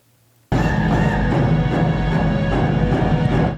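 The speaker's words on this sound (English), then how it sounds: "That is the sound of drum beats at the start of Tuesday's Louis Vuitton Fall-Winter 2024 fashion show in Paris" Drum beats opening the Louis Vuitton Fall-Winter 2024 fashion show in Paris, loud and continuous with regular pulsing hits under a dense, sustained musical texture.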